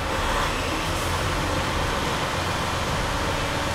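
Freightliner truck diesel engine running at a raised idle of about 900 RPM, a steady broadband rumble with a low-frequency drone that holds constant throughout, no speech.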